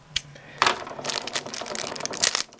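Plastic Gashapon capsule packaging for a Gouf figure being pried and torn open by hand, a run of close crinkling, snapping and rustling bursts with a sharp crack near the start.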